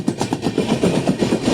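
The Valsad–Dahod Intercity, running with LHB coaches, pulls out of Amalsad. A rapid, regular clicking of wheels over rail joints sits over a low rumble, close by and without voices.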